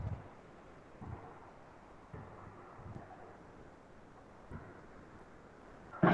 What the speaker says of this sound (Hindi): आ रही है बारिश